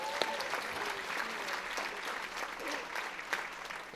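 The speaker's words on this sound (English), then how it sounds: "Big round of applause for Les Estrella" Steady audience applause for Les Estrella at a Hawaii conference, a dense, even patter of many hands from a crowd, fairly faint and distant, with a few sharper claps and murmurs mixed in.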